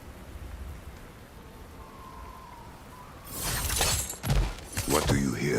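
Heavy rainstorm in God of War Ragnarok, a steady wash of rain that surges louder and harsher partway through, with crashing bursts like thunder or breaking debris.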